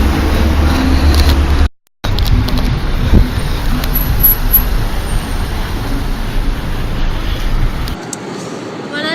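Road noise fills the cabin of a moving car with a steady low rumble and a broad hiss that continues throughout, briefly cutting out near the start.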